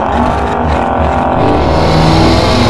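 A drag racing car's engine roars loud and close, a thick sustained rumble holding steady and building slightly toward the end, with no talk over it.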